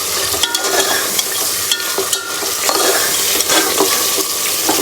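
Tender beef liver is stir-fried in masala in a pan, a loud, wet, continuous sizzle with spoon scrapes and stirring knocks close up.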